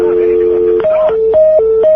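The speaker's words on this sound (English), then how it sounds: "You have a big dial tone over you." A steady electronic telephone tone hums on the line, then switches to alternating two-pitch beeps with short clicks between them.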